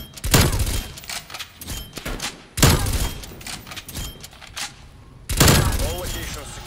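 Gunfire bursts in the shooter Call of Duty Black Ops Cold War: three loud, dense volleys of rapid shots with lulls between, mixed with game voices and battlefield noise.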